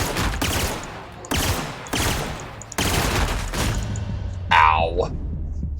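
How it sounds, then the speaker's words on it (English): Plasma gun fire in The Outer Worlds sounds as three loud, abrupt bursts about a second apart, followed by a sharper whooshing shot, each with a crackling sustained tail. "Sometimes a plasma gun is where it's at."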